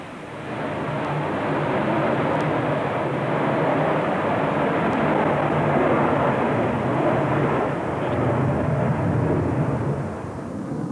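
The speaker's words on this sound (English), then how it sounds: "On takeoff, the MiG easily outdistanced its two F-86 chase planes" A MiG-15 jet roars through takeoff and climb, a loud, sustained rumbling blast that swells and holds steady, then eases slightly near the end, with no voices.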